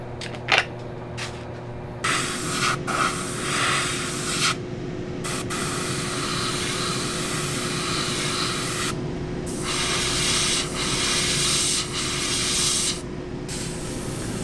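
An airbrush hisses in steady bursts while shading paint onto a 1:24 scale resin Sazabi model head, close and loud, with brief pauses between passes and no talking.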